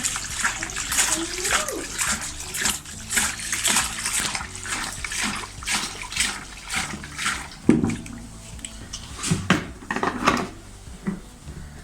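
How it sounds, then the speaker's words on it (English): Yeast slurry being stirred and swirled inside a bottle, with steady watery sloshing and splashing and light clinks of glass, close and fairly loud. "you're going to stir up the slurry to get all that yeast cake and everything elevated into the, or back into suspension"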